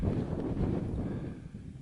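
Wind buffets the microphone at an exposed bikepacking campsite, a steady low roar that swells and eases slightly across the whole moment, with no voices.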